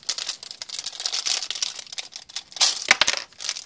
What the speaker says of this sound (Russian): закрываем капсулу и открываем пакетик.